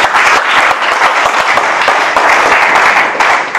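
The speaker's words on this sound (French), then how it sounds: "Acclamons pour le roi de gloire." A church congregation applauds in a loud, continuous wash of clapping that holds steady throughout, with a faint voice or two in the crowd.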